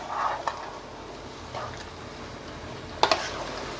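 A spoon stirs okra pulusu after jaggery goes in, giving a few brief scraping clinks against the pot over a low, quiet simmer, with a sharper pair of knocks near the end.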